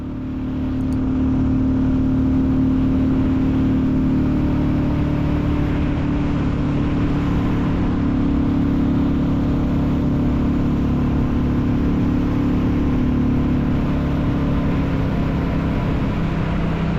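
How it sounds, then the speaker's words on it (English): Royal Enfield Classic 350 single-cylinder engine drones steadily and loudly while riding through bends on a commute, a continuous close thrum with wind rush and no talking. "let you enjoy some bends and some of that lovely engine noise"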